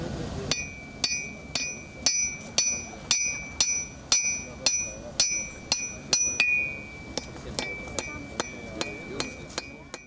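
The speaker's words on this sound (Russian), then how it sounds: "Всюду слышны молотки кузнецов, треск от костра, пламени" Blacksmiths' hammers ringing on metal and anvils at a forge inside the Sukhum fortress, a steady series of bright, clanging strikes about one per half second, each with a sustained metallic ring, heard close and clear.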